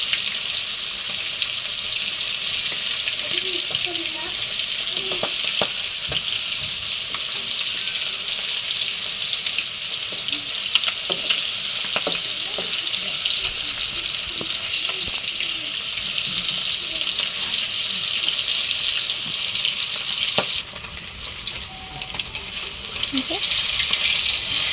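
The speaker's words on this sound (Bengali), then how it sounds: "মাছটা ভাজা হয়ে গেছে এপিট ওপিট করে।" Small puti fish, fried on both sides until red in a pan for a dish with palong greens, hiss in a continuous close sizzle with scattered pops and clinks; the sizzle briefly drops near the end, then returns.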